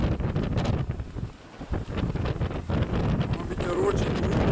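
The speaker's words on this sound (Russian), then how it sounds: "Но ветер очень дует." Strong wind buffets the microphone outdoors near a village, with a large long-range space communication antenna and an observation tower nearby; the roar is loud and continuous, dipping briefly midway, with a voice murmuring underneath.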